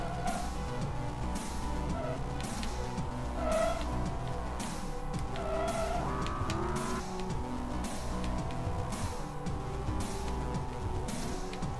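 Race cars in the video game Formula Bit Racing roar flat out at steady full throttle, a continuous loud engine drone with shifting pitch and brief tire squeals, no voices.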